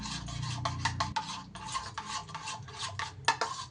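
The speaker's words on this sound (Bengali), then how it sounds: "এবার নুন আর তেলটাও খুব সুন্দর করে এই দইয়ের মধ্যে মিশিয়ে নিতে হবে।" A spoon scrapes and swirls through yogurt as salt and oil are stirred in, in a series of gritty rubbing strokes close up, with no talking.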